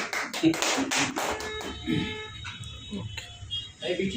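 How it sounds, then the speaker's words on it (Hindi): Clapping breaks out at a community celebration for Maharishi Valmiki Jayanti in Ulhasnagar: a few sharp claps up front fade into a muddle of crowd noise and faint tones. "ताली बजाओ भाई।"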